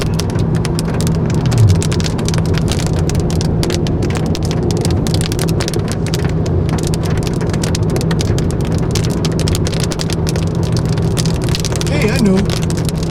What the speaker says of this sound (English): It's a cloud burst.